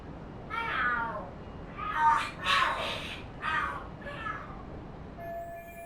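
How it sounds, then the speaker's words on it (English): Cats fight in the video game Lost Judgment, letting out several loud, drawn-out yowls and caterwauls in rising and falling bursts, close by with short gaps between them. "Are there cats fighting?"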